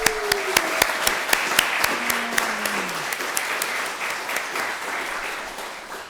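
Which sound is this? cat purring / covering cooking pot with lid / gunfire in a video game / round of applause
round of applause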